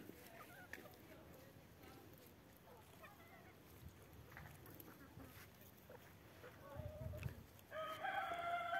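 Chickens and turkeys call at a distance over a steady outdoor background on a sunny day, with scattered clucks and a louder crowing-like burst near the end.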